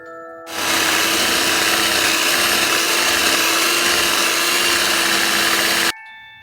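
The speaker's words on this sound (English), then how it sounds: "with my hand mixer, I'm going to mix our batter on medium speed" An electric hand mixer beats cake batter made with vegetable oil at medium speed. The loud, steady motor whir starts abruptly after a quiet moment, runs evenly for about five seconds, then cuts off.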